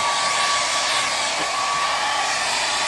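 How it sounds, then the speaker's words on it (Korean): A hair dryer on a lukewarm setting blows steadily and close while drying hair washed after a hair transplant, an even, unbroken whoosh with a faint whine. "이 헤어 드라이기를 미온에 너무 뜨겁게 하지 말고 미온으로 이렇게 말려줍니다"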